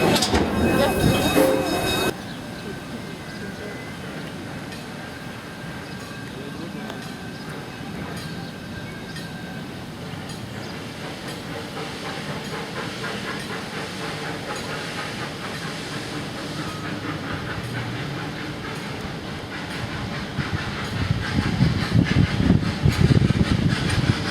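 A small zoo railroad train at the Omaha Zoo rolls along with a steady rumble and hiss that builds louder toward the end, with people talking intermittently over it.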